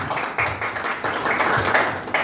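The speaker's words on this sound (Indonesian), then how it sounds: "tepuk tangan untuk kita semua" A group of people at a school meeting claps together in uneven bursts, fairly close and moderately loud, with individual hand slaps standing out from the patter for a couple of seconds.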